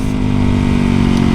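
Up close, a supermoto motorcycle's engine drones loud and steady at an even rev, with a continuous throbbing exhaust note and no one speaking.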